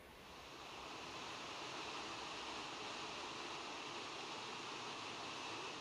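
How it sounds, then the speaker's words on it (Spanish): A Galician waterfall roars as a steady, broadband rush of falling water, continuous and unbroken throughout with no voices. "las cascadas se convierten en fervenzas"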